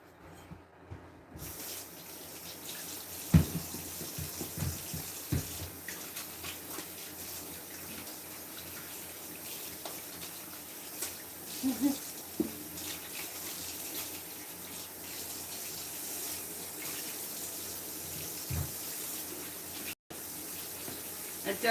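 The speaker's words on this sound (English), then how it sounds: "I'm going to wash my hands" Kitchen tap water runs steadily into a sink during handwashing while baking, a continuous close splashing stream with small clinks and a little background movement.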